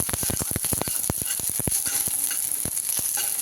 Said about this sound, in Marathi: आता हा जो लसूण आहे तो मी टाकणार आहे आणि तो देखील छान परतून घेणार